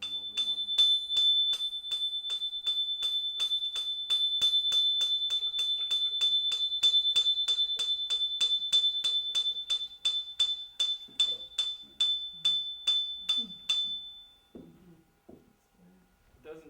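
A small bell partly filled with water is struck repeatedly in a quick, even rhythm, each ring short and damped; the strikes fade out near the end and a voice speaks briefly.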